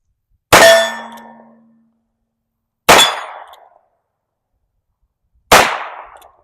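Three sharp metallic clangs spaced a few seconds apart, each ringing out and decaying slowly, as one-handed pistol shots strike a steel target at an outdoor range.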